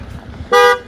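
One short, loud car horn toot sounds close by over low background rumble.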